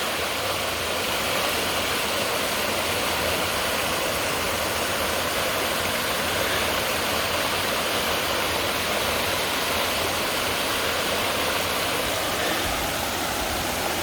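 A waterfall along a forest trail in Allegheny National Forest gives a steady, dense rush of falling water that fills the whole stretch evenly, with no voices over it.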